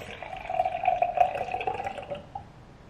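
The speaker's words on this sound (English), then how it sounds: "I'm just gonna pour 8 ounces out to split this." Milk pours in a steady stream into a container for about two seconds, a gurgling, splashing flow that tapers off, with no talking.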